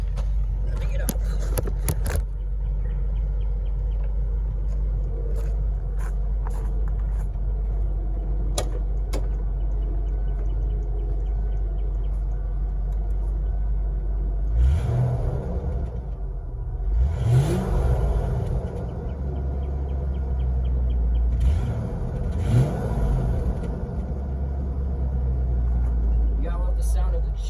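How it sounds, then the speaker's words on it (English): A 1991 Ford Thunderbird with the 5.0-liter 302 V8 rumbles at a steady idle, then is blipped for a few throttle revs near the middle and toward the end, the exhaust swelling and settling back each time. "Now I'll get a little bit of an exhaust clip of it."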